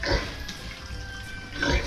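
A large sow lets out a couple of short, loud grunts close by, with a quieter snuffling stretch between them.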